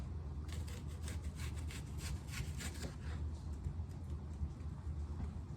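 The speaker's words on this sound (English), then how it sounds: "How do you grate an onion? I mean, I guess with a grater" An onion is rubbed against a grater in a run of quick, even rasping strokes, faint and close, which fade out after a few seconds.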